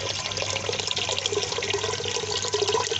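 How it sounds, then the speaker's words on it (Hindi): Water pours steadily into a clay matka pot of washed lentils, a continuous splashing, gurgling flow heard up close with no voices. "अब हम डालेंगे मटके में 3 से 4 गिलास पानी"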